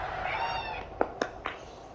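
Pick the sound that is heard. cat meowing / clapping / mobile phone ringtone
cat meowing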